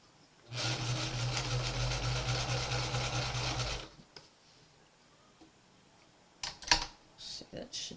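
A sewing machine stitches a quilt in a rapid, steady mechanical chatter for about three seconds, close and loud, then stops; afterward come quiet handling noises and a couple of brief clicks and knocks.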